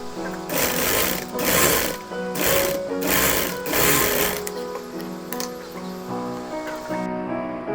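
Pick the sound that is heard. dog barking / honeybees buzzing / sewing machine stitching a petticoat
sewing machine stitching a petticoat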